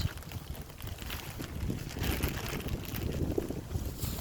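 Gusty wind in an outdoor garden, buffeting the microphone with a constant low rumble that swells louder midway and keeps roaring without a break.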